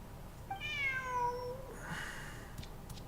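A cat in the video game Snowbreak: Containment Zone lets out a single drawn-out meow, clear and fairly close, over a low hum of game ambience.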